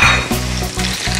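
Carrot and garlic sweat in a hot pan for a winter vegetable fettuccine, giving a steady close sizzle with faint stirring scrapes, loud and continuous with no voices.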